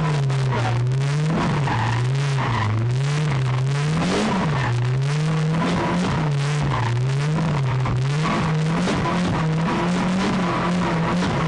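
A car practising drifts in a widening circle around a triangular course, its engine revving in repeated rising and falling waves with tyre squeal and skidding throughout, loud and close with no talking.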